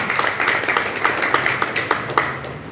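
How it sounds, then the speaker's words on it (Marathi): Audience clapping for an elderly man at a gathering, a lively burst of many hands in quick, slightly uneven rhythm, fairly close and steady throughout. "जोरदार टाळ्या काकांसाठी."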